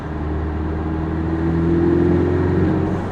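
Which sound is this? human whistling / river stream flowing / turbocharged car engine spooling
turbocharged car engine spooling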